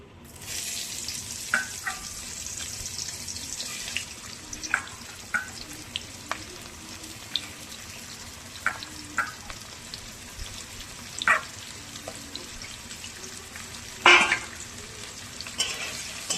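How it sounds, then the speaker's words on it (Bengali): Chopped onions frying in a pan, a steady bright sizzle running throughout with scattered scraping taps from stirring, close and fairly loud. "এবার দিয়ে দেবো হচ্ছে পেঁয়াজ কুচিগুলো।"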